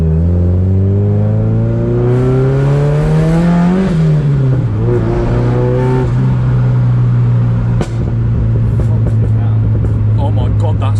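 A rear-wheel-drive Mazda MX5 with a straight-piped big-turbo exhaust revs loudly again and again, its pitch climbing and falling through long, sweeping pulls up close, with no talking.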